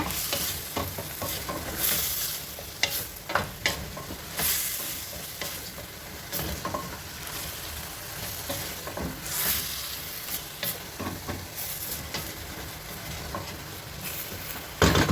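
The base of an Algerian olive stew fries and is stirred in a pot, a continuous crackling sizzle broken by repeated scraping strokes of a spoon, close and fairly loud throughout.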